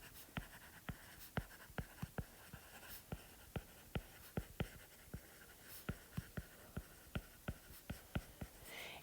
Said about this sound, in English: Let me go ahead and write that here.